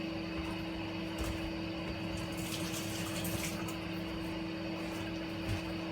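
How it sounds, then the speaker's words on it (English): Water from a kitchen tap runs steadily as fingers are rinsed after handling raw chicken, a continuous close splashing flow under a faint background hum, with no voices. "I'm going to rinse off my fingers there."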